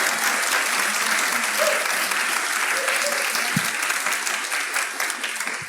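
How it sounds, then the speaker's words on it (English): Crowd applause for a faith panel at a Houston community event, sustained clapping filling the room at full strength for several seconds before tapering slightly near the end. "one more round of applause for they were great"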